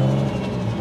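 A car engine revs briefly and loudly, with a rough, raspy tone from a bad exhaust leak at the V-band joint to the header.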